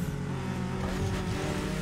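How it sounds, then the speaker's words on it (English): A Honda car engine in the racing game The Crew Motorfest hums steadily throughout, a continuous loud drone with layered harmonics and no talk. "Yeah, his Honda sounds good."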